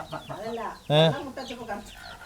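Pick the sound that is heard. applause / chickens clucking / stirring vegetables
chickens clucking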